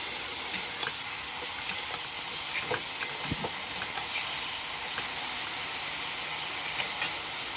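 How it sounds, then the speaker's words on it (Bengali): Potatoes fry in a pan in a home kitchen, giving a steady close sizzle with scattered sharp crackles and occasional stirring scrapes, with no talking. "আলুগুলো ভাজছি"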